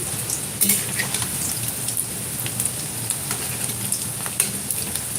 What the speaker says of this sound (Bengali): তেলটা একটু হিট রেখে ভাজতে হবে